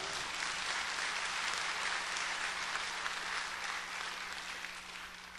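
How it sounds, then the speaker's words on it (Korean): A church congregation applauds, a dense, steady wash of many hands clapping together that slowly fades toward the end. "박수 좀 해주세요."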